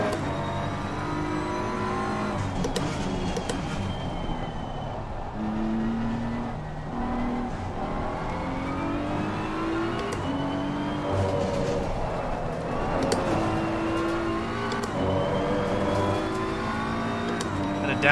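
Race car engine in Assetto Corsa Competizione revving hard and downshifting, a steady loud drone with rising and falling pitch and quick blips between gears, running continuously with no pauses.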